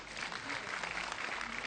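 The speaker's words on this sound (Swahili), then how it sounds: "Tupigie Rais makofi." A crowd at a title-deed handover event in Narok Town, Kenya, claps for the President in a dense, steady wash of applause that continues without a break.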